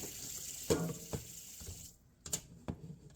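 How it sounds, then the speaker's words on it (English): Water and cooked macaroni drain from a kitchen pot into a sink in short splashing bursts, a faint close trickle that stops abruptly partway through with a few last drips. "And really try to drain it the best you can."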